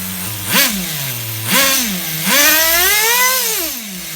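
A nitro engine in an HPI RS4 Nitro F150 RC car, being bench-tuned, revs up in three rising blips from a buzzing idle, the last held longer and sagging back down, loud and close.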